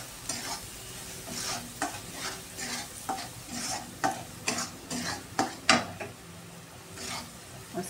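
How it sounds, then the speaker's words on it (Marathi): Masala and fried onion stirred in a pan for chicken curry, a close rhythmic scraping of a spoon against the pan over a soft sizzle, with no talk. "1-2 मिनिटं असं हलवून घ्यायचं"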